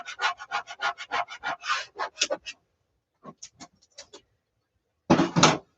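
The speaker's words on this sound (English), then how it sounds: "I am just kind of scraping the surface so that I can make sure that the vinyl adheres to the tape." A ruler scrapes across vinyl pressed onto transfer tape in a quick run of rhythmic rubbing strokes, then a few sparse scrapes after a pause, and a final short burst, close and without talk.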